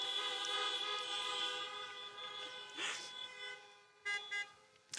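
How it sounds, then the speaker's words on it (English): Car horns honk at a Joe Biden 2020 campaign rally in Des Moines, Iowa: a sustained, distant wash of overlapping horn tones fading slowly, followed by two brief separate toots near the end. "Honk if you remember squealing."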